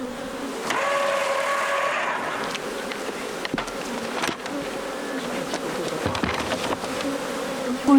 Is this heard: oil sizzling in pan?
no